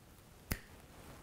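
A single crisp finger snap, close and isolated, standing alone against a quiet background with no talking.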